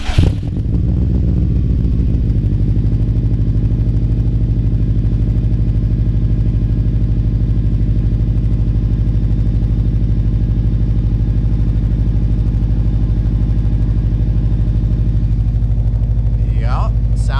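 A 2005 Saab 9-2X Aero, a rebadged Subaru WRX, cranks and fires near the microphone, then settles into a loud, steady idle that runs alone without pause.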